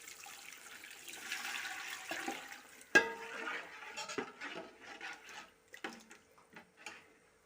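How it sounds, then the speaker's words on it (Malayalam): Coconut milk is poured into a pan of softened, sautéed ingredients, a soft liquid splash that swells and fades, followed by scattered clinks and knocks of utensils, quiet and close with no speech. "ഇതിലേക്ക് നമുക്ക് തേങ്ങാപ്പാൽ ഒഴിച്ചു കൊടുക്കാം"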